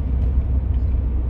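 Steady low rumble of a car driving, heard from inside the cabin, a constant engine and road drone at even loudness with no talk.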